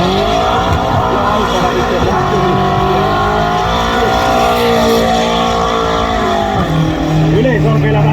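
A BMW engine revs loudly at a BMW enthusiast car show. The sound is a sustained, heavy roar that rises and falls in pitch, with a tire-squeal-like whine over a dense, loud background.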